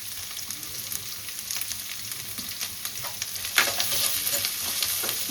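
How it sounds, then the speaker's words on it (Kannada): Onions frying in a pan with curry leaves, a constant close sizzle overlaid by repeated scraping stirs that grow a little louder toward the end, with no talking. "ಒಂದು 3 to 4 ಮಿನಿಟ್ಸ್ ಈರುಳ್ಳಿ ಸ್ವಲ್ಪ ಚೆನ್ನಾಗಿ ಫ್ರೈ ಆಗಲಿ"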